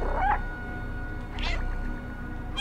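A cat meows in the video game gato.exe, a short, clear call near the start and a second fainter meow around the middle, over a steady game background hum.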